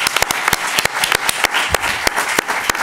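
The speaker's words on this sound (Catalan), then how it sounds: "qui demana un aplaudiment ara mateix" Audience applause at a fair-trade and ethical banking presentation in Tarragona, a dense patter of many hands clapping steadily for about three seconds, moderately loud with no talk over it.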